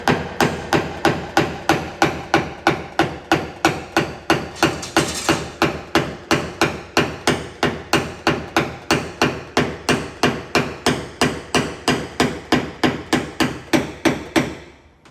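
A small hammer taps out dents in a car body panel during paintless dent repair, striking in a steady, quick, evenly spaced rhythm of sharp metallic knocks, close and alone for about fifteen seconds.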